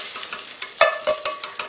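Japchae ingredients stir-fried in a pan for Chinese-cuisine yangjangpi japchae: a rapid series of scraping, clattering utensil strokes against the pan over a light sizzle, roughly evenly spaced and close up, with no talking.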